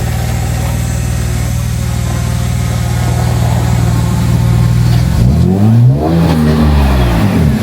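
A car heads down a steep, narrow drop at Palm Creek. Its engine drones loud and close at a steady idle-like rumble, then revs and shifts pitch near the end.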